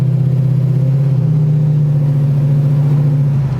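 A restored car, back on the road after a seven-year build, drives with a loud, close engine note, a steady deep rumbling drone holding an even pitch throughout with no talk.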